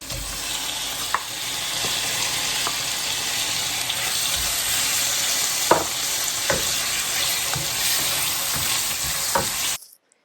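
Chorizo and canned Paris mushrooms frying for a rice dish, a steady close sizzle in a pan broken by scattered scrapes and taps of stirring, with no talking, then cutting off abruptly.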